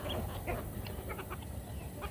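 Chickens feeding on scattered feed at a farm, with soft overlapping clucks and short calls over a steady, close, noisy background.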